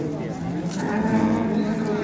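Cattle at a busy Baliqchi cow market, with a low drawn-out moo rising over crowd murmur and people talking close by.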